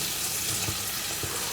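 Soup liquid going into a pan of sizzling Anglo-Indian chicken jalfrezi, a steady close frying hiss with soft splashy bumps as it hits the hot pan, no talking.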